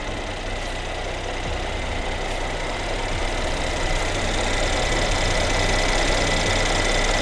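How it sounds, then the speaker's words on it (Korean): A Mercedes-Benz E450 4MATIC coupe engine idles steadily, a constant low mechanical hum and light knocking heard up close, with no voices. "엔진 소리 일정합니다."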